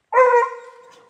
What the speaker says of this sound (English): So Sever is barking up there.